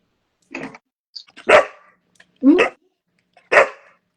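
A dog barks four times in separate short bursts spread evenly across the clip, loud and close, with no talk over the barks.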